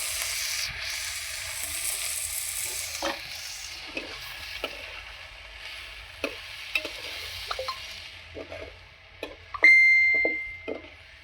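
Bitter gourd frying in fish oil with chopped onion and chilli gives a steady close sizzle, broken by scattered spatula scrapes and stirring clicks, with a sharp electronic beep near the end.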